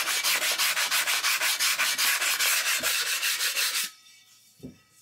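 A fired, wheel-thrown ceramic sink being ground, a loud, steady abrasive grinding with rapid pulsing that runs for about four seconds and then stops abruptly, leaving a faint hum and a brief knock.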